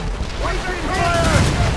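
Ship cannons boom during a naval battle in Assassin's Creed Rogue, a dense rumbling barrage under shouted commands and battle noise.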